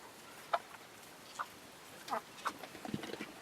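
Eight backyard chickens, including a bantam and a silkie rooster, settling into a converted camper coop, giving a handful of soft scattered clucks and short calls, fairly close over a quiet background.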